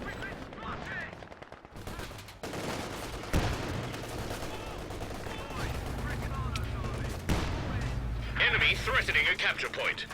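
MG34 machine gun fire in a Company of Heroes 2 2v2 match: rapid bursts and sharp cracks of gunfire over a steady battle rumble, growing louder toward the end, with a voice talking over it.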